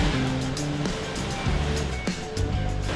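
Rushing water of Utod Falls, a waterfall in Magallanes, Cavite, heard as a constant broadband wash, with some tonal hums and brief bursts layered over the steady flow.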